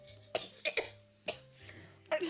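Several sharp coughs from an older woman come in close, irregular bursts, some in quick pairs, with a brief throat-clearing sound in between.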